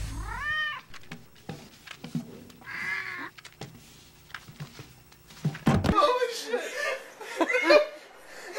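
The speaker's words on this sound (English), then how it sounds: "Does your cat make too much noise?" A house cat meows a few times in short, rising and falling cries, mixed with chuckling and other voices and bursts of noisy background activity.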